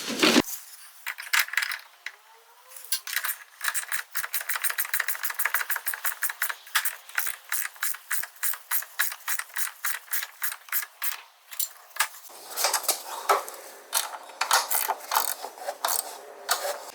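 A ratchet wrench rapidly clicks as it tightens a nut onto a C4 Corvette shock absorber stud, with long dense bursts of close metallic ticking, brief pauses, and a change in tone partway through.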